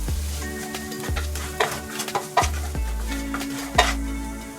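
Onions and green chili frying in a pan while being stirred for shrimp curry: loud steady sizzle with repeated scraping and clanking of a utensil against the pan, close up, no voices.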